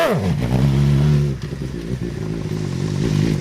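A Chinese buggy powered by a GSXR 600 motorcycle engine revs hard and close, a loud rising whine that drops away sharply and then settles into a rough, rattling run with no talking.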